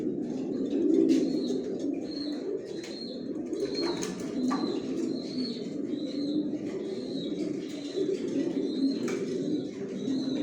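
Pigeons in a bedding loft, repeated soft cooing over a steady low murmur, with occasional chirps and wing flutters nearby.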